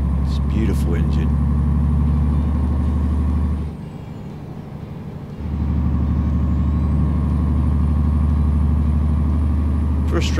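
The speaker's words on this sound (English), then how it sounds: "It's a beautiful engine." Straight-six truck engine in Euro Truck Simulator 2, a loud, steady low rumble that drops away briefly mid-clip before resuming, with someone speaking over it.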